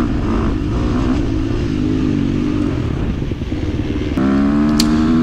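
A 2023 KTM 350 XC-F dirt bike racing a hare scramble, engine loud and close, holding a steady drone and then rising in pitch as the rider opens the throttle near the end.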